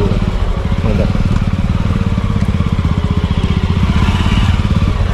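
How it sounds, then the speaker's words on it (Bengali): A motorcycle is ridden slowly into a beach campsite near Lalganj, its engine thudding in a steady, rapid low pulse throughout, loud and close with no break. "এবার এখান দিয়ে আমরা বাইকটা ঢুকিয়ে নেবো"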